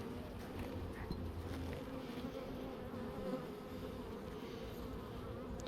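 A swarm of honey bees buzzes steadily around a hive frame during a swarm transfer, a dense, continuous droning hum at moderate to faint level with no speech.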